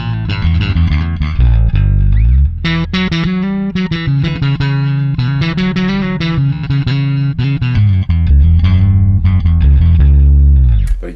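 Electric bass guitar played through a Tech 21 SansAmp Para Driver DI, a continuous run of plucked notes and riffs with a gritty driven tone, loud and close, no talking.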